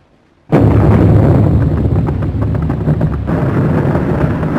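Bombs dropped from an aircraft explode in a 1930 war film, a sudden loud blast after near silence followed by a sustained roaring rumble of detonations and crackling debris.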